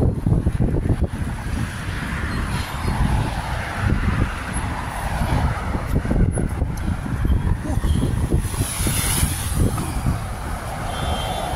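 Loud, steady wind roars and buffets the microphone throughout, a constant rumbling rush with no voices.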